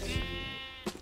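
A sheep bleats once in Minecraft, a clear harmonic, drawn-out call close up, followed by a short softer bleat near the end.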